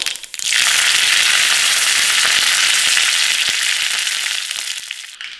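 Cumin seeds and curry leaves hit hot tempering oil for a lemon chutney, bursting into a loud, close, crackling sizzle that holds steady for several seconds before easing off.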